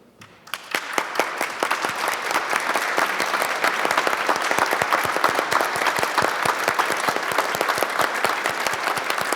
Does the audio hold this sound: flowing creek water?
no